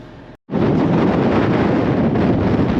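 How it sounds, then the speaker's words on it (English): Strong wind roars and buffets loudly and steadily against the microphone after a brief silent gap at the start, with no voices. "And it's very windy today."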